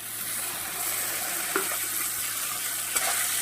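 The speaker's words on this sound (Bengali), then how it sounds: "এবার একসঙ্গে সুন্দর করে পেঁয়াজের সঙ্গে চিংড়ি মাছটাও ভেজে নেব" Shrimp sizzling with onion in a pan, a steady broad frying hiss throughout with two brief stirring scrapes.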